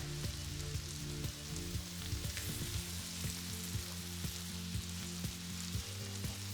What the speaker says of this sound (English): Now I'm going to give it a stir.